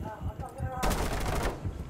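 Burst of rapid video game gunfire from a shooter match, a dense volley erupting after a quiet stretch and lasting about a second at close, loud range.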